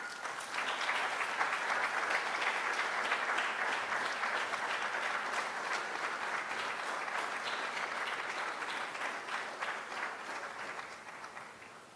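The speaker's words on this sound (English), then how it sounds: "Please give Sister Kumba a round of applause." An audience at an Albinism Awareness Day event applauds a speaker, with even, sustained clapping from many hands that swells quickly and then tapers slightly toward the end.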